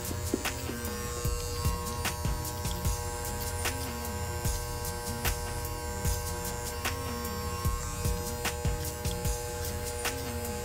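Electric hair clippers fitted with a 1.5 guard buzz steadily while cutting a low skin fade, a close, continuous motor hum broken by frequent short clicks and snips of the blade working through hair.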